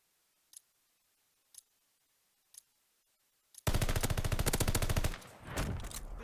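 Gunfire in Call of Duty: Vanguard ranked Search and Destroy: four sparse single clicks or shots, then a loud rapid burst of automatic fire that breaks off and resumes.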